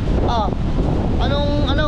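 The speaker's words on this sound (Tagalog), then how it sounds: "Sobrang lakas ng hangin." Strong typhoon wind buffets the microphone in a constant low roar, with brief tonal whistles riding over the rumble.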